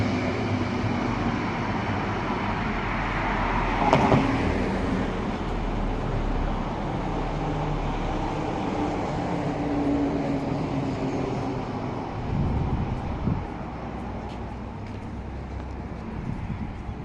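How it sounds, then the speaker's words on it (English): A light rail tram at the Ngara stop passes by as a broad rolling rumble that swells and fades over the clip, with a sharp brief screech or clank near the start and general street noise around it. "but first we got a tram coming."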